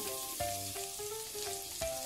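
Garlic cloves dropped into a pan of melting fat for an Argentine-style meatloaf, giving a steady, close sizzle with faint stirring or scraping clinks over about two seconds.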